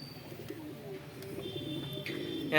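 Pigeons in a home loft coo softly with low, rolling calls, and a few faint chirps and higher bird notes surface over a quiet room background.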